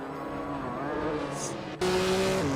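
A 1962 Ferrari 250 GT racing in a video game, its engine droning loud and steady, then jumping sharply to a higher-pitched rev midway, with a brief faint squeal above.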